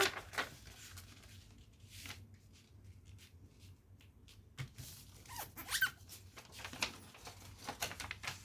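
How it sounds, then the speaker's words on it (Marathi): Sheets of paper are creased and folded by hand to form a box, giving soft intermittent crinkles, rustles and sharp creasing snaps at close range with no talking. "अशी घडी घाला उघडा"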